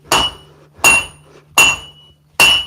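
A hammer strikes high carbon steel for a dagger in four sharp, ringing metallic blows spaced evenly about three-quarters of a second apart, each clang decaying quickly, close and loud, no talking.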